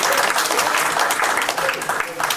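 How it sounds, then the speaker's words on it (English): An audience gives a guest speaker a lively round of applause at an interactive session, with dense, loud clapping throughout and voices mixed into the crowd noise. "some energy with your round of applause"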